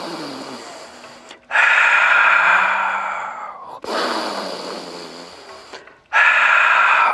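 Loud, close breathing during a Pilates breathing exercise: three long drawn breaths, each a strong rush of air that starts abruptly and slowly fades, separated by short silent pauses.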